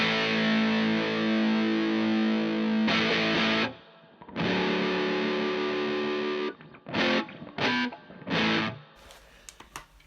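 Electric guitar played through a distortion pedal set around two o'clock, with loud sustained fuzzy chords, a brief silence, then several short choppy stabs cut off sharply, all played with no talking.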